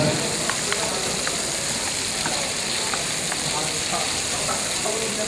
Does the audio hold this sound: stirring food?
yes